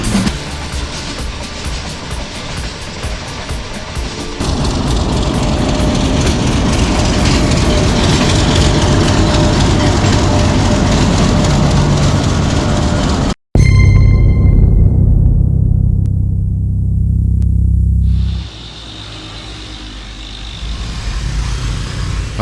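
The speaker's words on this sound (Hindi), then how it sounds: "और उधर से मेरी ट्रेन जो है उसने भी ऑन कर दिया है निकलने के लिए" A passenger train begins pulling out of a station early in the morning, a loud, continuous rumble with rattling and clanking from the cars. After an abrupt break, a deeper, heavy roar swells and then drops away.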